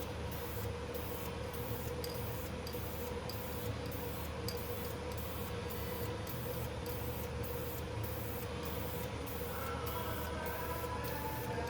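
Spray paint can hissing out light coats onto vehicle wheels, a steady continuous broadband spray running unbroken throughout, close and fairly loud, with no talking.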